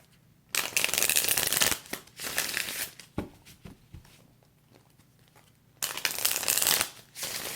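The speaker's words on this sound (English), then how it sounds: "Now I'm going to clarify with my Tarot Illuminati deck." A Tarot Illuminati card deck is shuffled in several bursts of quick riffling, close and crisp, separated by short pauses with softer handling sounds.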